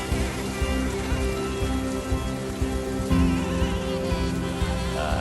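Rain falling steadily on the day of a traditional Kerala wedding, a continuous dense patter of drops on surfaces, close and even, mixed with a faint tonal hum underneath.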